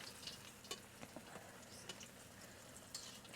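White bread slices frying in hot oil for chicken nuggets give a faint, steady sizzle with scattered small pops and crackles, no talking over it.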